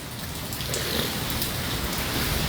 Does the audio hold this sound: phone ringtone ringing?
no